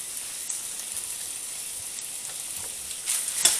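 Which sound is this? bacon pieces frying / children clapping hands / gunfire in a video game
bacon pieces frying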